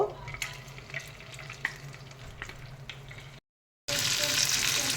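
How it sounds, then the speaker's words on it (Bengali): Battered chicken pieces, coated in egg and arrowroot, frying in hot oil in a wok: a steady crackling sizzle with sharp pops, briefly cutting out before returning louder and hissing. "এই যে চিকেনগুলো ভেজে নিচ্ছি।"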